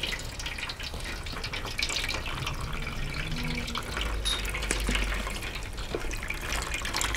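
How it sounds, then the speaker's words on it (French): Water is poured over the top of a potted Venus slipper orchid, giving a soft, steady trickle and splash that runs faintly and continuously throughout. "l'arroser en faisant couler juste de l'eau, voilà, sur le dessus, comme ceci"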